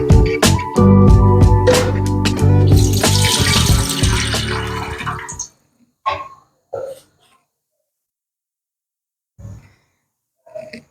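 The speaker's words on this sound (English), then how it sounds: "Put in some water." Water poured or run into a cooking pot for banana porridge (otor mboro), a steady close splashing stream lasting several seconds, followed by a few faint handling knocks with no speech.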